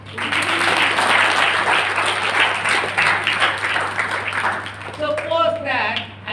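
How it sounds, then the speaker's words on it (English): Audience at an entrepreneurship skills program gives sustained loud applause, a dense wash of many hands clapping that thins and fades toward the end, with faint talk emerging near the close. "Yeah, you can clap."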